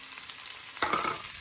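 Onions and garlic frying in hot oil in a pan for Tunisian-style beans, a close, steady sizzle and crackle that grows louder and busier halfway through as they are stirred.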